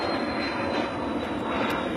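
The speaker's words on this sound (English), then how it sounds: "Waiting for a plane here." An airplane passes overhead, a steady broadband engine roar that stays even and moderately loud throughout the short stretch, with no voices over it.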